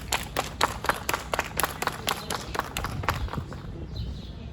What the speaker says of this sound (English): Let's have a big round of applause for feminism.